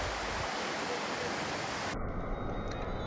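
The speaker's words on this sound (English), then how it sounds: "Cascading water tumble down rocky outcrops, their melodious chatter joining the rain's" Water cascades down rocky outcrops at the Tehri Falls on the Tehri River in rain, a steady broadband rush that is soft and continuous, with the sound thinning abruptly near the end.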